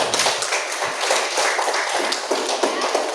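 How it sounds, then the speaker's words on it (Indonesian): Schoolchildren in a classroom clap for a classmate, a loose, fast patter of many hands close by, fairly loud and continuous for about three seconds with slight voice murmur underneath. "Ya, kita beri tepuk tangan dulu untuk Rasika."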